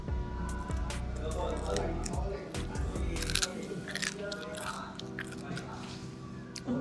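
Someone biting into crispy-skinned Chinese barbecue, with close crunching and wet chewing sounds in irregular bursts, while a person talks.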